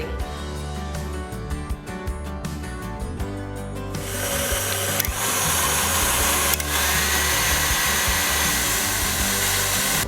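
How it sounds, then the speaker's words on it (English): Stand mixer beating butter, starting with a lower choppy whir and then rising to a loud, steady high-speed motor drone that holds close and continuous with no voices. "mix it on a high speed in our standing mixer for about 1 to 2 minutes"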